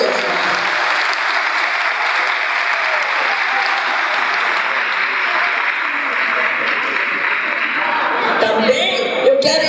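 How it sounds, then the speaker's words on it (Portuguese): A crowd of family members applauds the organizers of a family reunion gathering in Bom Jesus do Itabapoana, steady dense clapping sustained for nearly ten seconds, loud and close, with some cheering mixed in near the end. "Dá palmas para elas, gente."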